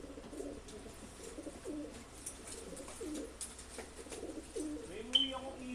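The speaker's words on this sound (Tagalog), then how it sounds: "Magkakarga na kami ng ibon." Pigeons cooing repeatedly at close range while birds are loaded up for a group training release, soft rhythmic coos with light fluttering and people talking nearby.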